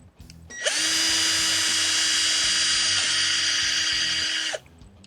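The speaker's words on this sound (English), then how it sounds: "using a Dremel with a wood carving bit, I'm just going to carve out the inside of the leg" A Dremel rotary tool fitted with a wood carving bit hollows out the inside of a figure's leg, giving one steady high-pitched whine that runs for about four seconds, loud and close, then stops abruptly.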